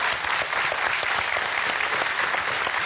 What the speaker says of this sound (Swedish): En varm applåd för båda två,